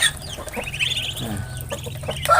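Chickens clucking nearby in a rural yard at morning, with ducks kept alongside; repeated short clucks and calls run through the whole stretch, fairly close and steady, with no voices.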